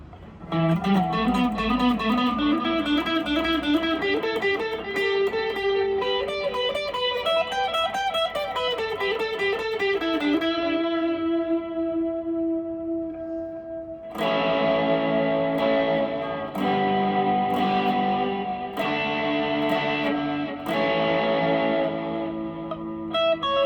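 An electric guitar on both humbuckers, through delay, reverb and preamp, plays bending, sustained notes and then strummed chords, smeared by echoing repeats and a spacious, lingering tail.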